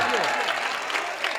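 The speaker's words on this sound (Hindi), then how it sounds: "अगर सच है तो तालियां बजाइए।" A brief burst of crowd clapping at an All India Mushaira poetry gathering in Mubarakpur, dense and close, with voices mixed in beneath the applause for just over a second.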